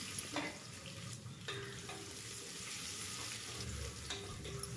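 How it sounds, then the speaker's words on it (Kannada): Three sliced green chillies and a lengthwise-cut onion sizzle steadily in a hot pan, a continuous frying hiss broken by a few scraping stirs of a spoon, close and moderately loud. "ಚೆನ್ನಾಗಿ ಫ್ರೈ ಮಾಡ್ಕೋಬೇಕು."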